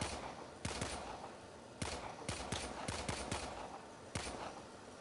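Gunfire in the Warframe video game comes as sharp, separate shots and short bursts, spaced irregularly over a constant loud background of in-game noise.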